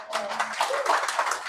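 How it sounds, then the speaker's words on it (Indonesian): Congregation clapping during a church service, a fairly soft patter of many hands that swells slightly partway through, with faint tonal sounds lingering briefly at the start. "Berikan tepuk tangan untuk Tuhan."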